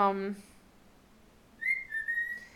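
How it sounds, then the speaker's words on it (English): A pet bird whistles indoors, first a brief rich warble and then, after a quiet gap, a clear sustained high whistle in two bright phrases, close and alone with no talk over it. "I may have to go and cover the bird. We'll see how long he whistles. Okay, he sings"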